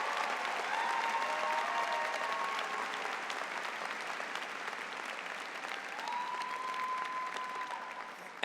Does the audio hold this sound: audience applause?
yes